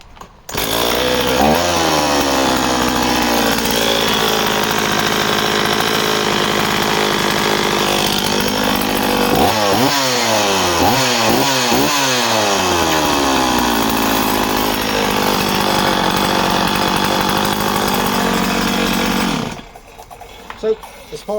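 A Stihl 028AV all-magnesium chainsaw with a 16-inch bar runs loud and steady close by, idling with repeated throttle blips that rise and fall in pitch, then cuts off near the end.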